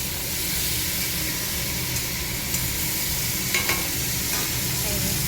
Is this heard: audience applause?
no